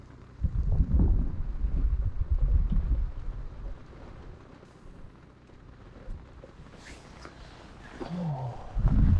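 Gusting wind buffets the microphone beside a winter fishing lake, heavy low rumbling surges swelling and fading across the stretch, loudest at the start and again near the end.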